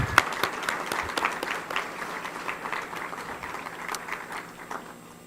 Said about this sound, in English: let's give another round of applause for our Act 1 readers